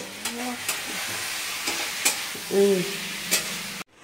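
Greens frying in a kadai are stirred with tongs, giving steady sizzling broken by scraping stir strokes and clanks. A voice speaks briefly partway through.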